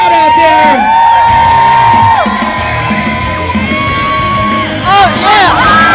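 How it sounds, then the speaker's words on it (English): A crowd at a BMX stunt show at the Texas State Fair whoops, shouts and cheers loudly and continuously for the full stretch, with shrill yells rising above the roar and a fresh burst near the end. "I want to hear my crowd out there."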